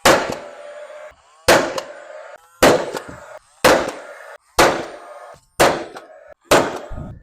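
Nail gun driving fasteners into shiplap boards over a wall, seven sharp, loud cracking shots spaced about a second apart, each followed by a brief ringing decay.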